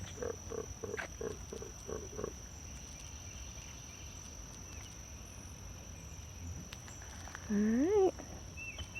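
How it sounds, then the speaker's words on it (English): A bullfrog's deep, rising croak sounds once near the end beside a pond, set against a steady outdoor drone of insects and scattered faint calls. "Like I hear bullfrogs"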